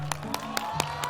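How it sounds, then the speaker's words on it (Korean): A school talk-concert audience clapping with both hands, heard as five evenly spaced, sharp claps in a unison rhythm over a faint hum of room noise. "다시 두 손 박수"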